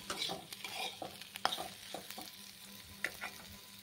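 Pointed gourd frying in a pan: a soft sizzle beneath repeated scraping and tapping of a spatula against the pan, close but fairly quiet, in an irregular stirring rhythm.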